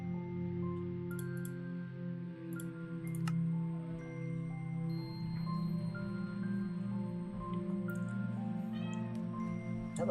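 Bo, a pet cat, meowing several times indoors, the cries fairly faint, spread through the stretch over a steady low hum, with some small clicks and no speech.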